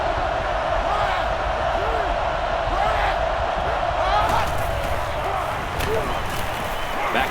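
A roaring stadium crowd in the video game NCAA Football 09, a steady, loud wash of cheering that runs throughout beneath a play-by-play commentator's talk.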